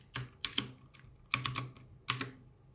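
Fingers typing an adb sideload command on a computer keyboard, with three close bursts of quick clicking keystrokes separated by short pauses.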